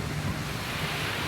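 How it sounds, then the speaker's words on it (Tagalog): Strong wind roars and buffets the microphone in a continuous, dense rush with no voices. "Hangin jud siya bugno jud sa pamati."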